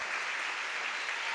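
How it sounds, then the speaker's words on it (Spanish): A church congregation claps together in a dense, steady burst of applause, loud and continuous with no voices on top. "Ese aplauso debe ser más fuerte para el Señor"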